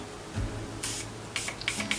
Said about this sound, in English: I'm going to use the Morphe Continuous Setting Mist